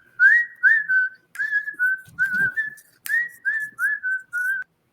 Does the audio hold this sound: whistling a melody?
yes